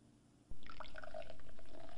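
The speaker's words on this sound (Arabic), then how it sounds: "نضيف قليلا من الشاي إلى الأنبوب الذي يحتوي على الحامض." Tea is poured into a test tube holding acid, a brief, close liquid trickle with small bright splashing drips after a soft start, faint and quiet.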